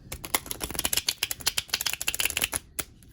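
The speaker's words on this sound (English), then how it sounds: "So that's how I'm used to shuffling cards, like playing cards." Tarot cards are shuffled by hand in quick, crisp riffling bursts, close and loud, with a brief pause before a final few flicks and no talking.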